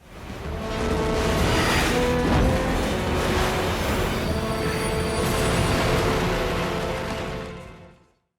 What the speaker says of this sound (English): causing the whole tram to derail